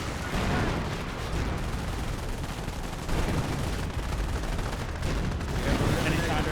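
Artillery and gunfire boom through a Company of Heroes battle, with dense overlapping blasts, rumbling impacts and rattling shots forming a continuous loud barrage, and someone talking over it.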